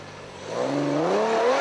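A 4x4 trials truck at an NZ Xtreme 4x4 Trials round in Wanganui revs hard, its engine note climbing steadily and growing loud and close in one sustained burst.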